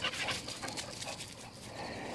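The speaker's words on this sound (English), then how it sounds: "There's a couple of the neighbor's dogs running around here." A couple of loose neighborhood dogs move about outdoors, giving soft whimpers and panting at moderate distance over steady background noise.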